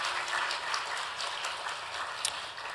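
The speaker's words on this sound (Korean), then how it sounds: "우리 목자와 부목자들을 격려하며 우리 한번 박수하면 좋겠습니다" A church young-adult congregation claps for its small-group leaders during a Sunday worship service, dense steady clapping from a roomful of people with a few sharper individual claps standing out, no talking over it.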